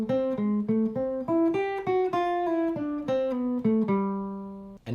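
Guitar plays a plain, evenly picked eighth-note line, each note cleanly articulated in a steady rhythm, close and alone with the last note left to ring out.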